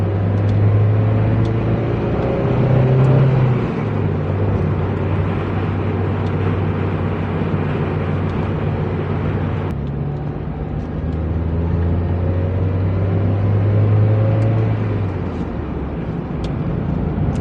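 An NB2 Mazda Miata cruises at steady speed, its engine and exhaust droning continuously in a low rumble with a few slight rises and dips in pitch, heard from inside the car with no talking.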